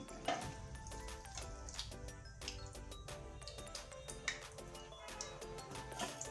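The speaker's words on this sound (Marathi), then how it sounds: "मस्त तळत आहे आणि खालच्याही साईडने छान आपण चकली तळून घेऊया" Chakli made from maida and moong dal frying in hot oil, a soft continuous sizzle partly masked by background music with sustained tones.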